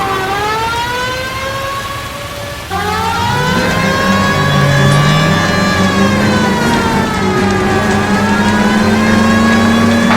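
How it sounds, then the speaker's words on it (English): A car engine revs and roars through a police chase in the video game L.A. Noire, steady and loud for the whole stretch, while wailing sirens sweep up and down over it. "That's Kelso's car."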